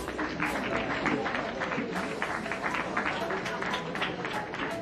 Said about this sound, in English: That hand clap is welcome